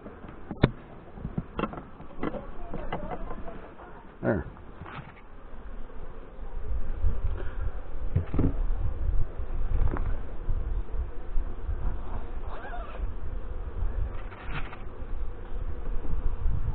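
Honey bees swarm and buzz in an open hive with the roof lifted off during a May inspection, a steady close drone with occasional louder passes near the microphone.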